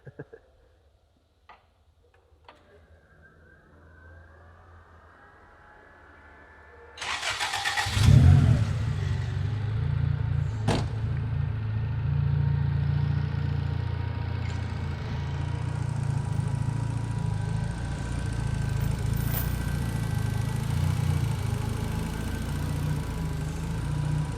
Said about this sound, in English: listen to what the engine sounds like